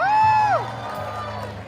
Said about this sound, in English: Let's cheer it on for our pros.